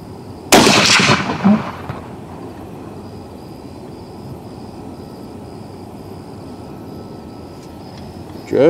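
A custom 7mm Rem SAUM rifle fires a single loud, close shot during load testing with Berger bullets, followed by a rolling echo that fades into quiet outdoor ambience.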